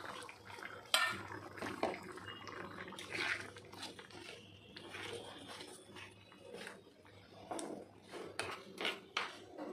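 Paneer curry simmering in a pan on the stove, with soft bubbling and intermittent clinks and scrapes of utensils against cookware, close and fairly quiet, with no talking.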